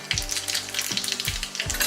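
Cumin seeds sizzle and crackle steadily in hot oil for a tempering, a dense close frying hiss with small pops throughout.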